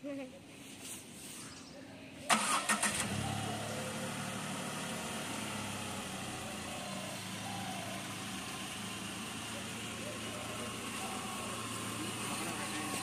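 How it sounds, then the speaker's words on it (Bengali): A newly bought Tata Tiago car starts up at the outset of a road trip, and a steady engine hum and rumble then carries on under low voices. "আমাদের সদ্য কেনা টাটা টিয়াগো গাড়ি করে আমরা আমাদের ফার্স্ট রোড ট্রিপ শুরু করছি"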